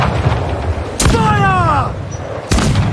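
Cannon fire from a sailing ship in Assassin's Creed IV Black Flag: a loud blast at one second trailed by whistling, falling projectile tones, then a second heavy boom, all over dense battle noise.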